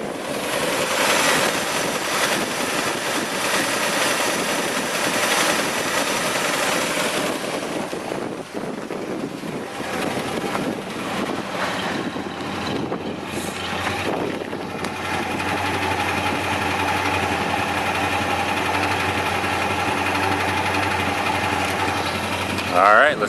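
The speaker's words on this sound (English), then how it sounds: "let you hear the engine" A 1962 Ford Thunderbird convertible engine runs steadily throughout, a continuous broadband rumble with a shift in tone partway as it idles and revs, with people talking faintly over it.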